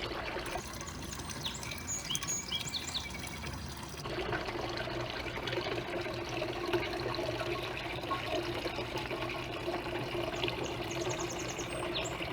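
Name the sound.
backyard water fountain splashing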